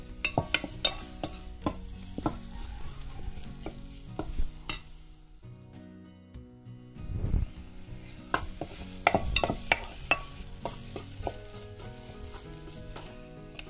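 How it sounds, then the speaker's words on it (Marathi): Masala frying in oil in a pan for a spiced dried-fish, brinjal and potato curry, stirred steadily with a spoon, giving close scraping strokes over a continuous sizzle that pauses briefly midway. "थोडंसं तेल सुटेपर्यंत हा मसाला मिक्स करायचा"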